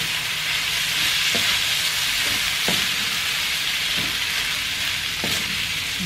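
Corn is stirred into a pot of shrimp corn soup with misua, a steady bubbling sizzle marked by several sharp spoon scrapes and clinks against the pot at irregular intervals, with no talk.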